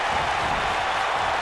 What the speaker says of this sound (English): the crowd is loving Sasha's act.